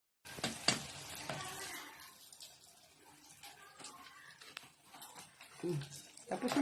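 Homemade fishballs fry in hot oil, a soft sizzling crackle running under a person's voice, with a few louder splashes and clatters near the start and end.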